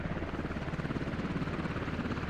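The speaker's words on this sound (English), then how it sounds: "Squad 6 is being picked up in the helicopter." A helicopter hovers to pick up a squad in a military video game, its rotor a steady, close, pulsing drone with no talk over it.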